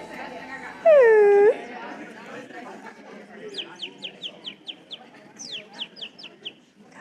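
A person imitates a bird with a mouth whistle: first a brief swooping warble, then a quick run of about a dozen sharp, evenly spaced chirps, close and clear.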